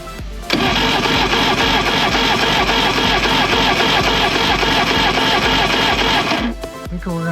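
A Johnson Evinrude 200hp outboard engine cranks steadily on the starter during a cylinder compression test, a loud rapid rhythmic whirring chug for about six seconds before stopping.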